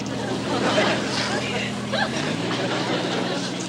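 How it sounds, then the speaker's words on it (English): Motorboat engine running steadily after a stall, a continuous low rumble with wash of water noise, fairly loud throughout, with faint background voices. "Stalled engines seem to be working all right now"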